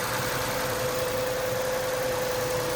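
A 2017 Chrysler Pacifica engine idles steadily after an oil change, making a constant even hum with a fixed tonal drone, close by and with no talking.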